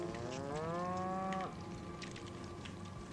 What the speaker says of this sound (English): Why are there woolly cows in here?